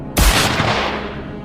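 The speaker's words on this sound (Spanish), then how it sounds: "Otro disparo." A single heavy gunshot effect, a sudden loud blast followed by a long rumbling reverberant decay that fades over about a second.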